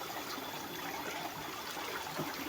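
Water of the Narmada River flows in a soft, continuous babbling rush, faint and even throughout with no other sounds.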